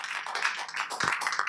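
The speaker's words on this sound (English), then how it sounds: "let's welcome Stuart to the stage and give him a warm round of applause" A small audience claps for a speaker being welcomed to the stage at a talk on whether eating fat makes you fat; the scattered, fairly faint claps sound slightly distant.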